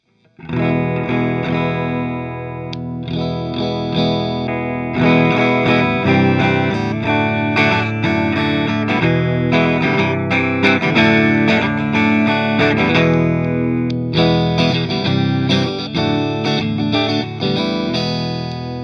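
1997 Fender Stratocaster Deluxe electric guitar with the S1 switch in position 4, a distorted, effected tone playing chords and riffs steadily, loud and close, with brief pauses between phrases and no talking.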